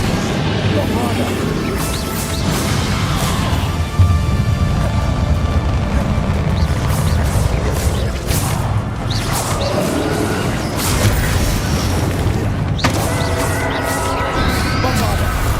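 Bombarda blasting spell explosions in Hogwarts Legacy, loud bursts and crashes layered over dense battle noise and a game soundtrack, with voices speaking throughout.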